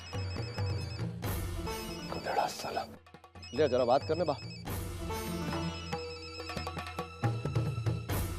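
A mobile phone rings with a repeating electronic ringtone that stops briefly and then resumes loudly, while someone talks over and between the rings in a TV drama scene.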